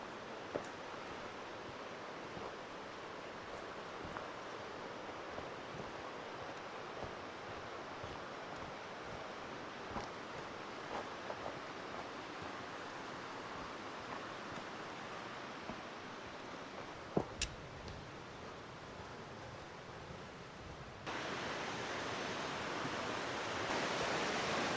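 Soft, continuous rush of a river flowing beside a hiking trail along the Big Wood River, a distant steady wash of water with faint wind and a few small bumps, growing slightly louder toward the end.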